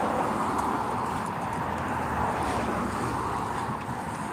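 Steady wind rushes across the microphone, a continuous broadband roar that holds fairly loud throughout with no voices.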